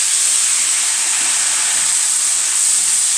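Vinegar hits onion and garlic frying in a pan and gives a loud, steady, bright hiss that holds evenly throughout, close and alone.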